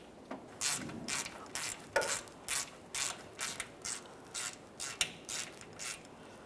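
A ratchet snugs the center brake hose fitting on a 2004-2008 Ford F-150, giving a steady run of about a dozen evenly spaced, crisp metallic clicks, close and fairly quiet, with no voices.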